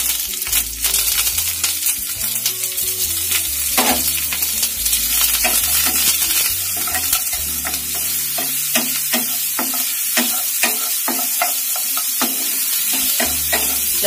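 Garlic fries in hot oil with curry leaves, mustard seeds and cumin, stirred with a utensil that scrapes and clacks repeatedly against the pan over a constant close sizzle, with no voices.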